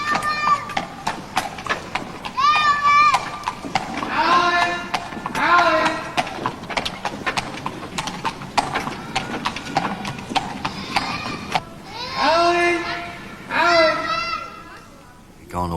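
Horse hooves clip-clop steadily on a street in Ireland in 1983, sharp and close, with children's voices and talk in the background and a horse whinny at moments.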